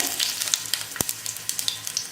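Crackling, popping sizzle of mustard seeds, cumin and skin-on chopped garlic hitting hot oil, with quick irregular spits and one sharp pop midway.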